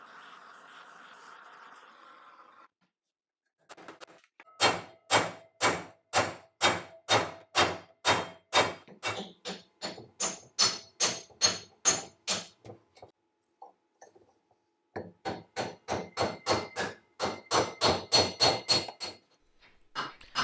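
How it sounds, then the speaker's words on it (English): A hammer taps a pulley off a drill press motor shaft in a workshop: long runs of evenly spaced metallic knocks, close and fairly loud, broken by short pauses, with no talk. "I've got it pretty well supported and just kind of trying to tap it out, slowly going."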